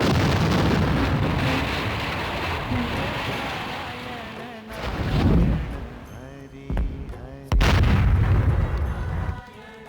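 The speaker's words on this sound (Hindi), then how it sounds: "दूर से कहीं विस्फोट की आवाजें आ रही हैं। शायद ये ऊपर ग्लेशियर टूट रहे हैं।" Deep rumbling booms of glaciers breaking up high roll in from a distance, several heavy bursts separated by brief lulls, with a constant roar of wind or rushing noise filling the background.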